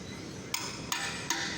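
Three sharp metallic hammer strikes on a 300 mm cast iron spigot pipe joint ring out at even intervals over a steady background hum.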